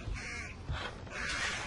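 Crows caw in the stealth game Thief, a couple of harsh calls spread over a low ambient background, fairly close and alone without talk.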